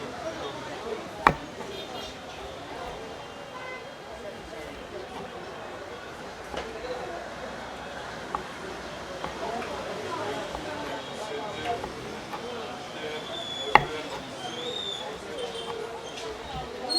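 A knife chops peppers and tomatoes into pieces, faint scattered taps with a few sharper knocks, mostly beneath continuous talking.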